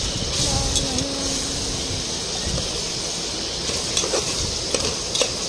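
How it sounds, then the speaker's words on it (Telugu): Asafoetida and turmeric frying in hot oil while being stirred, a steady close sizzle broken by occasional scraping and clinking of the utensil. "ఇప్పుడు కొంచెం సేపు బాగా ఫ్రై చేసుకుందాము. పసుపు కూడా యాడ్ చేసి ఫ్రై చేసుకుందాం ఫ్రెండ్స్."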